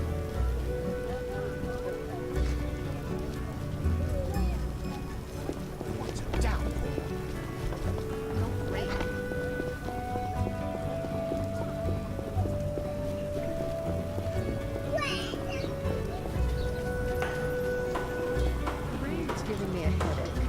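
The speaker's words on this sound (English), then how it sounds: "Rain's giving me a headache." Rain falling in The Witcher PC Enhanced Edition, a steady patter beneath game music and character dialogue throughout.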